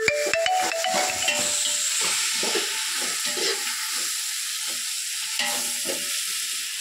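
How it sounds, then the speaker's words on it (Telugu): Tomatoes frying with turmeric in a pan, a close, constant sizzle broken by repeated scraping strokes of a spoon stirring at an irregular pace, with no talk over it. "ఒక 15 మినిట్స్ దోరగా వేయించుకోవాలి"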